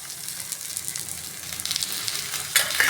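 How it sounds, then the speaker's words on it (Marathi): Vegetable cutlets, six of them, shallow-frying in oil in a pan over a low flame, a steady soft sizzle that slowly grows louder, then flares up sharply near the end as more oil goes in. "तर या ठिकाणी मी 6 भाजणार आहे कटलेट. चला तर आता साईडनं आपल्याला तेल सोडायचं आहे"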